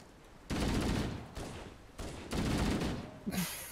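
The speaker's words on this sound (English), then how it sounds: "I'm being shot at." Bursts of gunfire pound at the player in Halo: Combat Evolved, two long loud volleys of rapid shots separated by a short lull, ending in a brief hiss-like burst.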